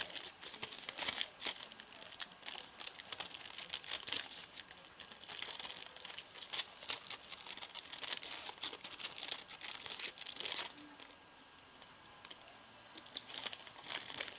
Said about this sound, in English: take your scissors and trim around it, cut off the excess